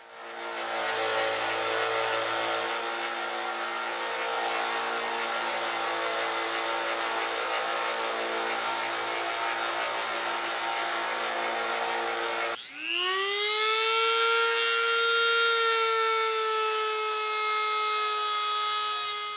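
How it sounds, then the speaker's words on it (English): A power grinder whines steadily for a long stretch, then its pitch jumps to a sharper, higher scream as it bites into the steel, grinding bevels on a hook knife blade. "Grinding in the proper bevels for the hook knife was pretty tricky"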